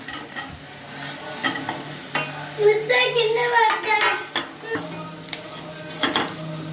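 Fried pieces for a vegetarian thotakura liver fry are stirred into sizzling masala, with a spoon clattering and scraping against the pan in irregular bursts over a steady frying hiss.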